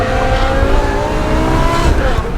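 Stroker V10 engine in a BMW M5 with 92,000 miles, loud and close as it accelerates hard, with rising harmonic engine tones layered over a dense roar and a voice talking over it throughout.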